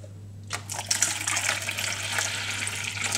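After half a second of quiet, half a litre of warm water starts pouring steadily, a bright splashing hiss that continues without pause.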